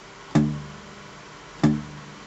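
Two muted electric guitar chugs, each a short damped low strum, spaced well apart with a pause between them.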